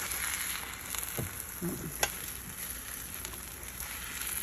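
A steady close sizzle of eggs frying in a hot pan fills the stretch, with a few soft clinks and taps of a utensil on the pan and no talk.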